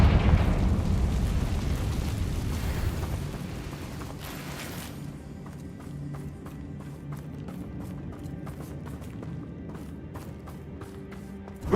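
A Confringo blasting spell in the Hogwarts Legacy video game gives a booming fiery explosion that rumbles and fades, followed by crackling debris and clattering effects.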